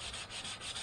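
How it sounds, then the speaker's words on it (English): A wire brush on an angle grinder scrubs a large water softener tank with a dense, steady rasping hiss and a faint pulsing rhythm. It is loud and close. "So I switched over to a wire brush, and I've got one for my grinder"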